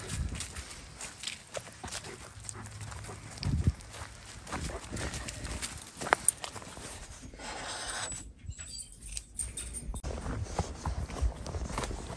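Horse hooves clip-clop at a walking pace as a rider moves through woods, a steady uneven patter close by, with a voice speaking over parts of it.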